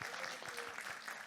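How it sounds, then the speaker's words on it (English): Applause from an audience at a respiratory summit, brief, dense clapping at moderate distance with no talk over it. "Give them a round of applause."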